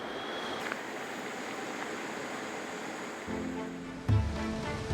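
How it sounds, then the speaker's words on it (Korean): Continuous roar of surf and storm wind outside a harbor breakwater during a typhoon warning, with heavier crashing surges near the end as high waves break close by. "강한 바람과 함께 방파제 밖에는 높은 파도가 몰아칩니다."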